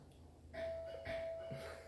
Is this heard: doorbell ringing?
yes